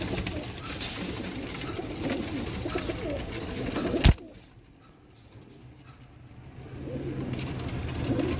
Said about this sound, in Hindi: ये देखो डब्बा वाला कबूतर, डब्बा वाला कबूतर दिखाओ